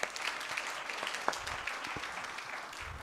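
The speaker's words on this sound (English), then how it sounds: "A big round of applause for him" Scattered, fairly faint applause from students at a first-year B.Tech induction and orientation program, with distinct individual claps popping out of a soft, roomy crowd background.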